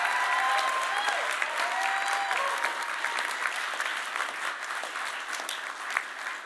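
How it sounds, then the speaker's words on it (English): Sustained audience applause at a city transition committee meeting, a dense wash of many hands clapping continuously and loudly throughout, with faint scattered voices mixed in. "Another round of applause for Josie and Harlem."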